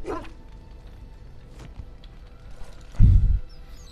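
Dog in the video game Dragon Age: Origins giving a short bark early, then a soft whimpering yip, and a loud, deep bark close up near the end against quiet game ambience.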